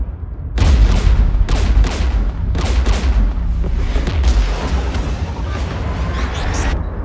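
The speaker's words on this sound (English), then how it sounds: "We're taking fire." Heavy, continuous combat din in the Mass Effect game: rapid gunfire mixed with booming artillery and explosions, loud and dense throughout with repeated sharp blasts over a rumbling low background.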